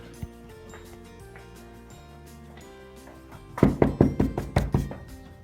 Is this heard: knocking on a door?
yes